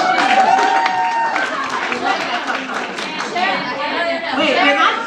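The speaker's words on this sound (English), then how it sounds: "raise your hand so we can all applaud for you" Guests at a goodbye party clap and cheer amid lively chatter, the applause blending with overlapping voices and laughter close by throughout.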